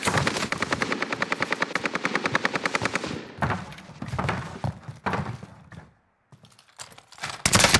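Rapid automatic gunfire in a multiplayer shooter video game, a long rattling burst of close shots followed by scattered bursts and single shots, a brief silence, then another loud burst at the end.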